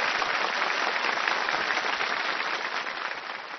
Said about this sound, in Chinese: 让我们用掌声祝福我们所有的选手